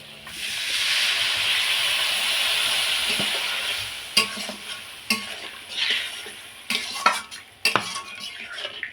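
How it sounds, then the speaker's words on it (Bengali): Water poured into a hot pan of fig and fish curry with potatoes sets off a loud, sustained sizzle for a few seconds. Scattered utensil scrapes and clinks against the pan follow. "এবার এর মধ্যে দিয়ে দেব জল"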